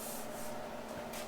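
A diesel oil pan is hand-sanded with 220-grit paper on a block: short, close, raspy rubbing strokes with a soft steady hiss, no voices.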